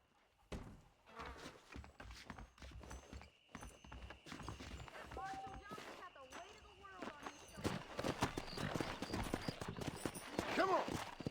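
A horse walks with clip-clop hooves in Red Dead Redemption, the steps a loose string of soft thuds over game ambience, with a voice talking partway through and the hoof sounds growing busier toward the end.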